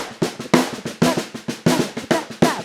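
Syncopated ragtime drum beat, a close, bouncy pattern of sharp hits with uneven accents, played alone and fairly loud over a few seconds.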